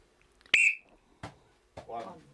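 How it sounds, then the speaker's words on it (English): A single sharp blast of a referee's whistle starts a keepy-uppy football challenge. It sounds clearly and close against a quiet background, and brief voices and shuffling follow. "On the whistle."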